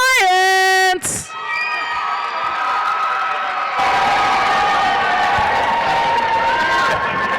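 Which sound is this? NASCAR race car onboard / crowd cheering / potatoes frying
crowd cheering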